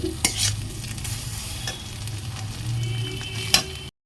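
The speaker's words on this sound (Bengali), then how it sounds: "এই যে চিংড়ি আর পেঁয়াজ এটা দিয়ে দিচ্ছি, হাফ করে দেওয়া, হ্যাঁ, একটুখানি ঘুরিয়েই নামিয়ে নিতে হবে" Prawns and chopped onion being stirred as they fry in a pan, a continuous close sizzle broken by several sharp scraping strokes of the spatula, ending abruptly.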